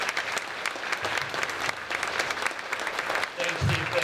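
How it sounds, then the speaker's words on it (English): Sustained applause from an outdoor crowd at a veterans banner picnic and medal ceremony in Hadley, dense steady clapping lasting the whole span with a brief voice near the end. "another round of applause to all our Gold Star veterans, please"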